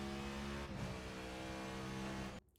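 Cadillac V-Series.R race car engine in a racing simulator at Motegi, held at full throttle through a high-speed corner, a loud steady harmonic drone with a brief dip in pitch, then cut off abruptly near the end.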